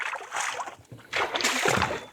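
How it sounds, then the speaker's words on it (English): A paddleboard slides into calm water at a small lake beach, giving a soft splash and then steady sloshing and rippling up close, with faint voices in the background. "we just headed to the little beach area where we're gonna go ahead and put the paddleboard in"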